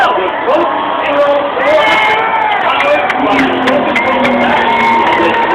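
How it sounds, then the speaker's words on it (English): A loud race crowd cheers, shouts and whoops for Jimmy Johnson after a stock car win at Daytona, a continuous roar with an announcer's voice talking over it. "Give him a big round of applause, ladies and gentlemen."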